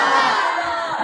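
A crowd at a religious speech about Imam Husain calls out a loud, brief collective Subhan Allah chant, a full-throated burst of many voices that holds steady for about a second.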